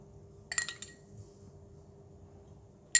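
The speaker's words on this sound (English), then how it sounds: "So I'm going to dish out and serve." Stir-fried bean sprouts with salted fish dished onto a plate: a short cluster of light clinks of utensil on crockery, then quiet, and one more sharp clink at the end, all faint and close.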